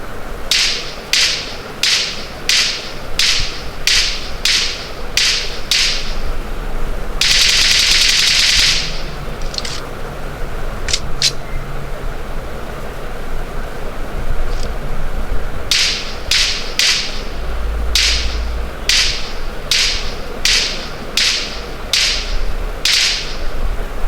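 Automatic gunfire in the mobile battle-royale game BGMI: rapid bursts of sharp shots crackle at the start and end, with a dense sustained volley in the middle, loud and close, with no talking.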